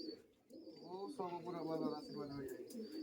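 Giribaz pigeons coo from a roof, with soft, repeated throaty calls layered together at moderate distance, with a voice also present.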